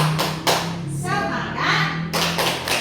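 A classroom of children claps the 'tepuk semangat' spirit clap in rhythmic bursts, with chanted voices in between and overlapping the claps.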